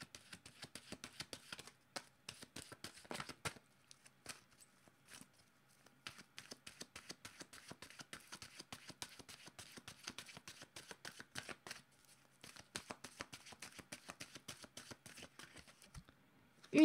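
A deck of oracle cards is shuffled by hand in long runs of quick, crisp riffling, the flutters close and soft. Brief pauses break up the shuffling, and a louder knock comes at the end.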